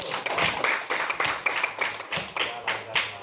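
A classroom of students clapping in a primary lesson, a modest scattered patter of separate claps with a faint voice murmuring underneath.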